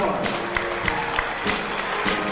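A crowd applauding at a live stand-up comedy show, a steady wash of clapping with faint cheers mixed in and a voice talking over it.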